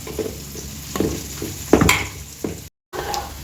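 Onions frying in a pan for pav bhaji, cooking to a reddish brown, with a soft steady sizzle broken by several stirring scrapes and a brief silent gap near the end.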